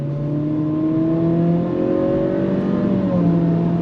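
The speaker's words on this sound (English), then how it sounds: "pulling away from the light, we're gonna go on throttle" A 2025 Acura ADX A-Spec SUV pulls away from a stop light under throttle, its engine note rising steadily through simulated gear steps with a continuous whir, heard from inside the cabin.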